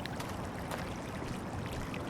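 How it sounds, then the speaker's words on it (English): A creek flows in a dark, spooky game setting, giving a faint, steady rush of running water that continues unbroken with no speech. "Oh, we can hear the creek."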